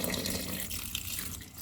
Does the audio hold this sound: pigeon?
no